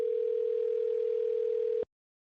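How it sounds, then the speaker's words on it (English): A steady telephone dial tone hums alone at constant pitch for nearly two seconds, then cuts off abruptly into silence. "I'm just connected with the dial tone."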